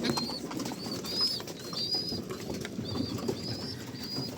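Pigeons cooing and rustling in a loft with young blue squabs, a steady bed of low coos under repeated high chirping calls, fairly close and continuous.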